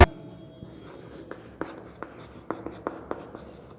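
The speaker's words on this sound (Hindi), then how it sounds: "आइए इधर लिखते हैं।" Chalk taps and scrapes on a board as a math teacher writes trigonometry formulas, a run of sharp, irregular ticks and short strokes close by in a quiet room.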